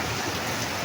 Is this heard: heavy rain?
yes